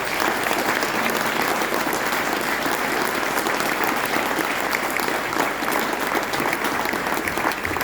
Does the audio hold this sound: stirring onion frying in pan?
no